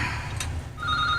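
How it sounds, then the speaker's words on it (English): A phone rings nearby with a steady electronic tone that starts partway through, over a low background hum. "And my phone is ringing."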